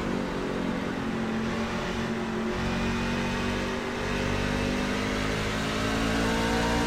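NASCAR truck engines in the iRacing sim game drone loudly and continuously, a steady buzzing engine tone that shifts slightly in pitch over several seconds, with no talking.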